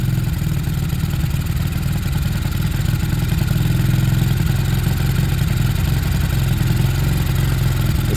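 A Sinnis Harrier motorcycle engine fitted with a Hanway carburetor idles steadily nearby, a loud, even, throbbing putter with a mechanical clatter that holds for several seconds without revving.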